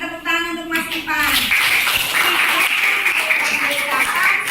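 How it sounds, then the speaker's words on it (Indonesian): Classmates clap for a student in a classroom, a burst of group applause that follows a teacher's voice and continues steadily after it. "Tepuk tangan untuk Mas Ipan"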